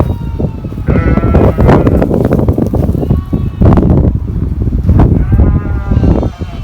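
Sheep bleat repeatedly inside a newly built farm barn, several overlapping calls rising over steady wind noise, with a person talking nearby between the cries.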